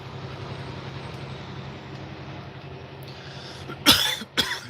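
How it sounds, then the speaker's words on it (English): A person coughs twice in quick succession near the end, loud and close, after a steady low rumble of engine or aircraft-like drone. "That's really rude, coughing in your ear like that."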